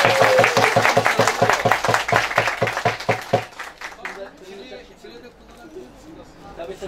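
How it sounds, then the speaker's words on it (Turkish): Audience applause for a worker at a gift-exchange gathering, rhythmic unison clapping from a small group for about three and a half seconds, then fading into quiet room noise. "Ya böyle güzel bir işçiye kuvvetli bir alkış yapın ya."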